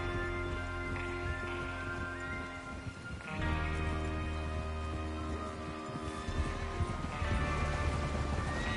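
Steady hoofbeats of horses at a gallop in a video game, dense and continuous, mixed with a low rumbling game soundtrack and occasional whinnies.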